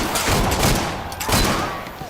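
Rapid gunfire from the pirate-era video game Caribbean Legend, a loud continuous fusillade of overlapping shots lasting about two seconds with no speech.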